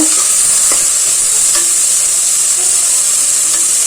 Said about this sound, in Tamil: ஒரு பெரிய வெங்காயம் ரெண்டு வெங்காயம் கட் பண்ணி வச்சுருக்கேன் அதையும் போட்டுக்கிறேன் புதினா கொஞ்சம் போட்டுக்கலாம் எல்லாத்தையும் நல்லா வதக்கி விட்டுக்கலாம்